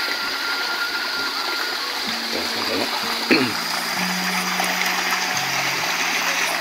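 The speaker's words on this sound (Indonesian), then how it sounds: "Aliran sungai yang mengalir dari mata air pegunungan ya, sangat jernih" A clear, spring-fed mountain river flows in a rural village in Banjar, giving a steady, close rush of water that lasts throughout with faint tonal sounds in the background.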